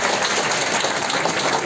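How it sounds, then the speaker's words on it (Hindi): Audience in a cooperative awareness programme session applauding, a dense steady wash of many hands clapping, fairly loud and continuous with no talk over it. "तालियां अपने लिए"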